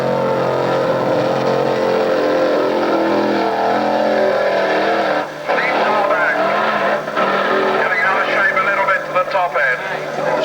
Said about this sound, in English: The Chevy Volvo of Leif Dayback against Hayes From's Capri, powered by Garlett's built 500 cubic inch Hemi.